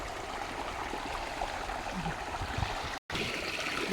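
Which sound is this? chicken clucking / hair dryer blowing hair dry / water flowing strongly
water flowing strongly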